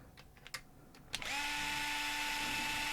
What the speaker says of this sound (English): I'm going to get a faster drill and see what happens when we spin it faster